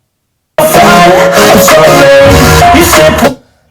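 Loud music with a strong beat and melody plays through a battery-powered Harman Kardon Go + Play portable Bluetooth speaker at 100% volume, starting abruptly after a moment of silence and cutting off near the end.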